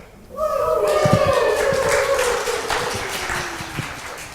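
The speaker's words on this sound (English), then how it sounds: "The group cheers in victory, glad to overcome this obstacle." A church congregation cheers and claps together in a loud, sustained burst of celebration that holds steady for several seconds and fades only slightly at the end.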